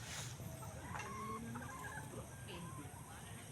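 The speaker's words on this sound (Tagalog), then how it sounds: "manok ni San Pedro yata itong isang to" Chickens cluck and squawk at moderate distance over a constant background hum, with scattered calls overlapping through the stretch.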